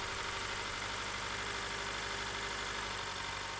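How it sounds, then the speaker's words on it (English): A car engine idles steadily at close range during a dynamic compression test, giving a constant low rumble with a broad mechanical hiss over it and no talking. "Start engine. Allow to idle."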